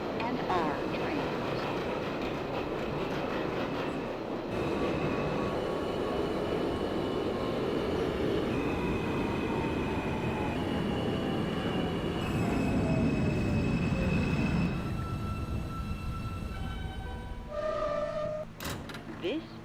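An N subway train to Coney Island in a simulator game rumbles along the track with steady roar and long squealing wheel tones, the noise easing near the end as the train slows.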